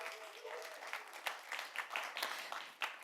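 Warm audience applause welcoming a panel host onto the stage at a live music industry conference, a steady dense patter of many clapping hands lasting a few seconds at moderate loudness.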